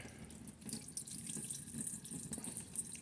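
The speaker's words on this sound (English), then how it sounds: "rinse it a few times with cold water." Cold tap water running into a sink while homemade butter is rinsed, a steady, fairly quiet splashing stream that continues throughout with no talk.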